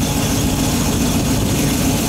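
Chevy 350 V8 idling on an engine stand during break-in, a steady low rumbling drone, close and even, with no talk.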